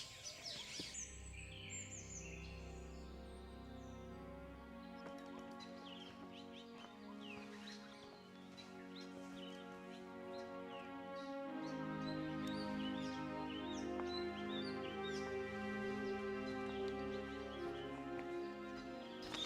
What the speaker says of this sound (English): There's an oriental magpie robin here.